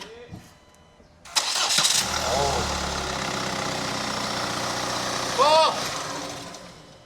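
A Kia Carnival engine cranks on the starter at close range, catches and settles into a steady idle. Voices talk over the running engine, and it revs briefly near the end.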